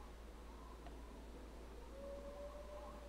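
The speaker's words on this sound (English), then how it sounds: "That was the wolves." Far-off wolves howl in the survival video game SCUM, giving a thin, drawn-out wail that rises and holds over a constant low background hum.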